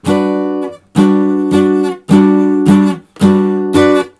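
A guitar is strummed loudly and close in a plain, even pattern with no skipped strokes, repeated chord hits in a regular pulse with short breaks between groups.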